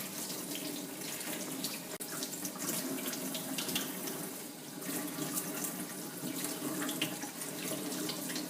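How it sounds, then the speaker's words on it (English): A pine mushroom being washed under a running kitchen tap, with a steady close hiss and splash of water streaming into the sink the whole time. "I will wash a pine mushroom like this"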